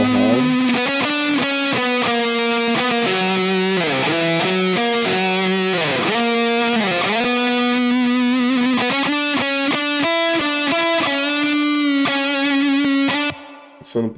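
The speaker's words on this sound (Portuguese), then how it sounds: "E tem um reverbzinho aqui pra elas." Distorted open electric guitars play sustained chords with a Valhalla reverb adding a smooth tail, filling a rock mix loudly and continuously before cutting off near the end.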